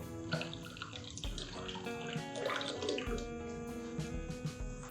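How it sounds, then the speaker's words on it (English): Water poured into a pot of Bhutanese Jaju vegetable soup just after cow's milk, a steady splashing liquid pour alongside kitchen clatter, fairly close and continuous with no talk. "And along with this, a little water."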